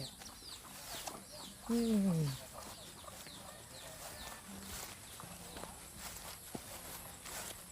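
Chickens cluck faintly around a farmyard in Kapoe, Ranong, Thailand, with one louder call standing out among distant clucks and quiet rustling.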